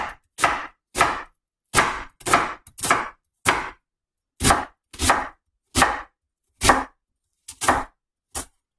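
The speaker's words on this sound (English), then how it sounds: "we're going to go ahead and cut these onions up very quickly" Onions being chopped with a knife on a board, about fourteen crisp separate strokes in an uneven rhythm, close and loud with short silences between them.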